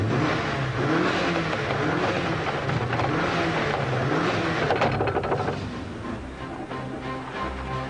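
A Subaru Impreza P1 engine revs hard and loud, a rising, roaring sweep that sounds up close, then eases to a lower, rougher note near the end.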